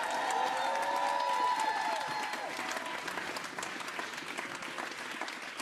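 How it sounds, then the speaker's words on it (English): An audience applauds performers at a Filipinx arts event, with dense, sustained clapping and some crowd noise that fades slightly toward the end. "please give a big round of applause to everybody that performed tonight"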